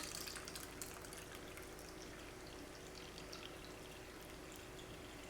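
Water pours steadily into a pour-over coffee machine's reservoir in a continuous, even stream, a soft trickling wash that holds at a constant level throughout.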